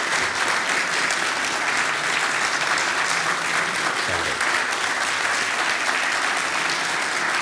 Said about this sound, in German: Ihr Applaus, Herr Platzek